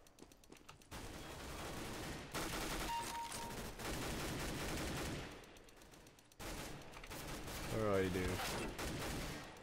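Gunfire in Counter-Strike: Global Offensive, with sniper rifle shots mixed into sustained in-game bursts and loud crackling volleys. A player speaks briefly over the shooting.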